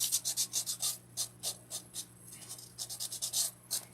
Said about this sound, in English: Let's just sand him up.